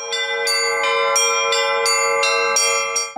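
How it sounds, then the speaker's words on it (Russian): Orthodox church bells peal at an outdoor festival in Sochi, with several bright, overlapping strikes rising over a sustained, ringing tone every half second or so, loud and close throughout. "Наряду с колокольными перезвонами на фестивале можно было услышать инструментальную и вокальную музыку"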